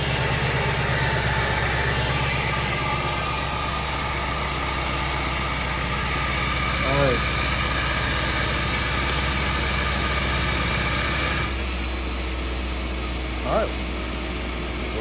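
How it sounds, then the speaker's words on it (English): A Mercedes SL550 V8 idles steadily after a cold start, a loud constant rumble throughout, with a person speaking briefly over it. "That was just the motor itself, I guess. The initial cold start."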